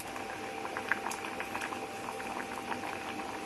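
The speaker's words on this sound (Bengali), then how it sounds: "এই যে ডাল ফুটে গেছে" Mung dal boils in a pot on an induction cooker, with a steady stream of bubbling pops and gurgles close up and no voices.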